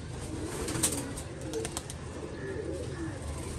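A pigeon gives soft, low coos close by over a steady background hiss, with a few faint chirps mixed in.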